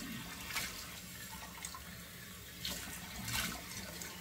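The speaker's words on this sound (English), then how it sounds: "close the pores with two splashes of cold water" Cold water splashes onto a face at a running sink after a wet shave, with several separate wet slaps over the steady trickle of the tap, close and fairly soft.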